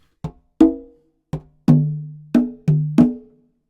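Conga plays a samba partido alto pattern: seven hand strokes in an uneven rhythm, some short and damped, others open and ringing with a sustained tonal overtone, close and alone.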